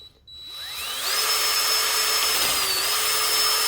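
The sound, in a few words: drill boring hole for motorcycle highway pegs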